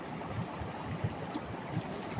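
Hot water gushes and bubbles from the Badekdek sulfur spring in a low, churning rumble with occasional soft surges and gurgles, fairly faint and continuous, with no talking.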